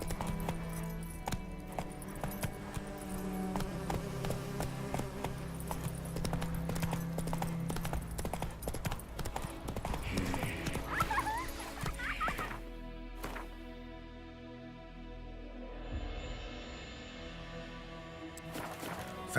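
Geralt's horse Roach galloping in The Witcher 3, a steady run of hoofbeats carrying through the whole stretch over a dense game soundtrack, with the music thinning toward the end.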